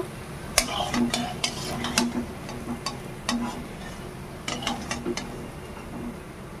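Pumpkin leaf and masoor lentil fritters frying in oil, heard as a quiet sizzle beneath a scattered series of sharp metal utensil clinks and taps close by.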